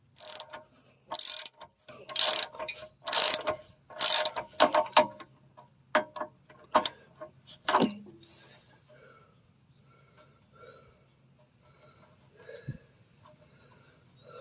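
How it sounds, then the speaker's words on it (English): A nut being turned with a ratchet while removing the rear bumper of a 1975 Triumph Spitfire 1500, a run of sharp clicking strokes close by, then sparse faint knocks and quiet handling. "I think there's a nut on top that's turning."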